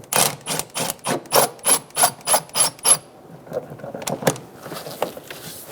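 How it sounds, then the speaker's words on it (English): A 10mm socket on a ratchet works the intake clamp of a 2.7L Toyota Tacoma, a close, rhythmic run of about eleven quick raspy clicking strokes, followed by scattered lighter taps and handling noises. "Using a 10mm socket, loosen the clamp for the intake."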